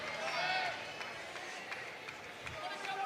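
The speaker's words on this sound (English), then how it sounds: "Crowd getting into it here." Arena crowd at a Big Ten college wrestling dual between Drexel and Penn State, a steady roar of cheering spectators at moderate distance with swells and scattered shouts throughout.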